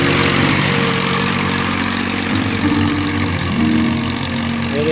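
Tractor pulling a plough through a farm field, a steady loud diesel engine drone running continuously with slight shifts in pitch, close by and without speech.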